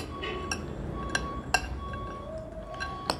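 A spoon clinking against a glass bowl while stirring ingredients for layered filo pastry pie, with several bright, separate chinks at uneven intervals over a quiet background.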